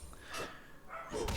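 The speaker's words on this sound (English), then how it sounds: "If you hear barking in the background, that is the dog." A dog barks somewhere in the background, faint and distant, with two or three muffled barks spread across a quiet indoor room.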